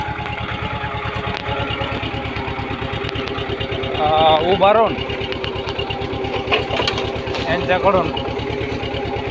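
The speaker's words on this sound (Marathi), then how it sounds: "ही ट्रॅक्टरची पाळी आणून घेतलेली." A tractor engine chugs steadily at close range while tilling a sweet lime orchard, its even low pulsing running throughout, with someone talking over it and a brief rising whine near the middle.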